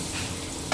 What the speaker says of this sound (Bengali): গাজরগুলো একটু ঘিয়ের মধ্যে ভেজে নেব